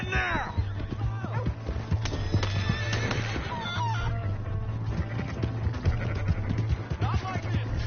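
A horse in Red Dead Redemption 2 gives a high whinnying neigh at the start, followed by hoof clatter and game noise, while characters shout and argue over it throughout.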